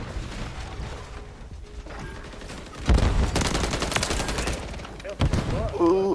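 Fast SMG gunfire in a video game opens with a loud burst partway through, followed by rapid automatic rattling and more short bursts over game noise, with a voice faintly in the mix.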